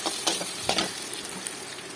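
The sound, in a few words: banana flower curry ingredients frying with turmeric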